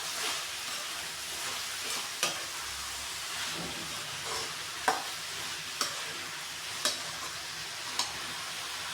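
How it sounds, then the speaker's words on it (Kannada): Ridge gourd frying in a pan for a simple Karnataka-style palya, a steady soft sizzle broken by a few sharp spatula scrapes and taps against the pan, with no voices. "ಹೀರೆಕಾಯಿ ಹಾಕ್ಬಿಟ್ಟು ಚೆನ್ನಾಗಿ ಫ್ರೈ ಮಾಡಬೇಕು."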